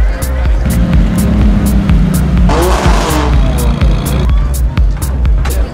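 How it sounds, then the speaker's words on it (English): A McLaren 570S sports car at a high-end car show gives a loud, close engine roar with revving surges over busy crowd noise and camera clicks, while people talk nearby. "Here is a McLaren 570S."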